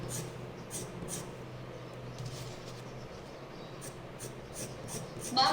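Soft charcoal pencil shading tree trunks on paper, a faint, close scratchy rubbing that comes in short repeated strokes over quiet background.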